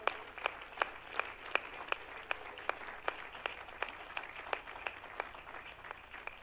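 A church congregation at a Pentecostal service claps in a steady, evenly spaced rhythm of sharp, fairly faint claps, heard alone over a quiet room for several seconds.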